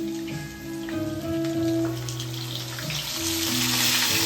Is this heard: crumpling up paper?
no